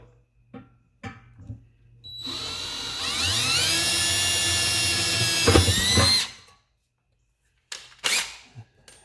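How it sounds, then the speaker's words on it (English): A high-pitched power drill whines steadily for about four seconds while drilling a small pilot hole in a valve cover, winding up and then stopping, with a few clunks and handling noises around it. "we'll move on to the drill. First, we're going to go ahead and make a small pilot"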